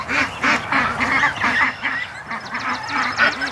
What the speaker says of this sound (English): A tub full of ducks.